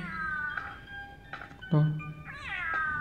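Several meows from a cat in a video game, some drawn out and rising, one short low yowl, heard close over faint background game noise.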